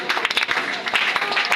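Congregation applauding at a prayer service, a dense steady patter of hand claps with a few louder close claps, carrying on throughout.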